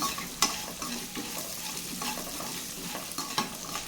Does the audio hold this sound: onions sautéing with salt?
yes